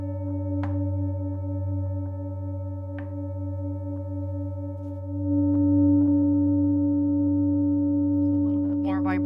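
A sound-healing singing bowl rings in a steady, sustained hum with layered overtones, passed over the top of a body to clear it. Soft strikes recur, and the tone swells slightly louder near the end.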